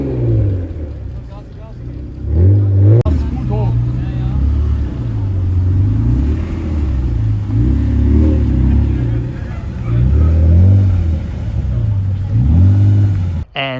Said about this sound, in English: There's that dumped wide-body white NSX too, so we'll get that leaving before we head towards the exit.